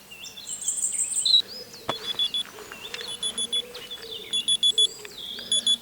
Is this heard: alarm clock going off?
yes